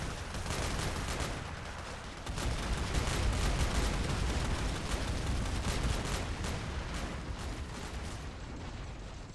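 A vehicle-mounted gun in Men of War Assault Squad during a US Marine beach landing fires rapid repeated bursts, loud and continuous over a roaring battlefield with explosions and distant shots.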